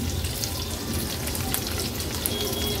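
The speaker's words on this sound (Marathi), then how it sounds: "तेलावर थोड्या परतून घेतल्या आहेत" Garlic cloves crushed with their skins on and two green chillies frying in hot oil for an Agri Koli style fish thali, giving a steady, dense crackling sizzle that stays even and close throughout.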